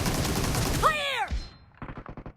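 Gunfire in the mobile shooter BGMI, a loud burst of rapid shots with a ringing, sweeping tone, then a short run of quick, evenly spaced shots after a brief gap, with voices nearby.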